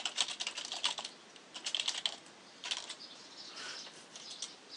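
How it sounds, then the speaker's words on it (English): Quick, light clicking of someone typing on a computer keyboard while editing a web page, bursts of keystrokes with short pauses, close and fairly quiet, no talking. "when you want to edit, you just click the pencil and you start typing in."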